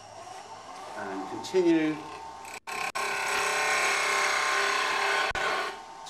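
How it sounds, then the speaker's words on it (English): A brief spoken phrase comes first, then a wood lathe spins up and cuts a wobble chuck, holding a steady, loud whirring scrape with one or two short breaks. "So we'll just start the lathe up"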